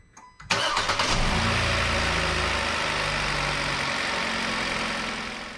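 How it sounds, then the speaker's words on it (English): A 2021 Kia Rio engine cranks and catches after a short quiet moment, then settles into a steady, close idle that holds with a slight fade toward the end. "So we're gonna start the car."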